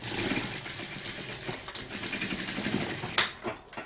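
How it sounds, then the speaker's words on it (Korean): A sewing machine stitches fabric for an air conditioner cover, running steadily with a continuous close mechanical whir and rapid needle clatter, slowing briefly near the end. "그래서 밀어 넣은 채로 박음질 해주세요"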